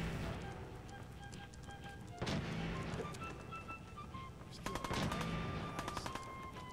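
Double-barrel shotgun blasts in Fallout 4, a few sharp punchy shots separated by pauses and set against faint background game ambience and music tones.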